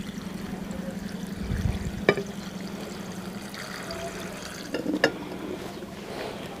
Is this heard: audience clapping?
no